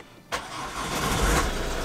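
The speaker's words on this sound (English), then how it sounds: "So I'm going to turn the car on" A Ford Mondeo Mk4 car engine starts with a short sharp crank and settles straight into a close, steady idle.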